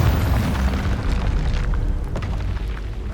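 A Confringo fire spell explodes in the Hogwarts Legacy video game, a loud, sustained booming blast that stays heavy and rumbling for about three seconds with crackling bursts layered on top.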